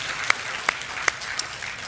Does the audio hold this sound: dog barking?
no